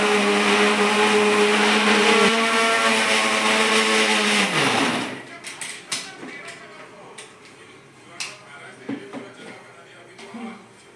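A kitchen blender whirs loudly and steadily, grinding banana with a little milk for a banana shake, then cuts off about halfway through, leaving faint clicks and handling noises in a quiet room.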